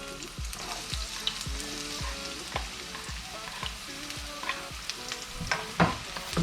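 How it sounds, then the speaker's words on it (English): Chopped onions fry in hot oil in a pan for a chicken curry, with a steady close sizzle and rhythmic stirring scrapes. "as the oil is heated, almost heated, I'm gonna put this chopped onions into the pan"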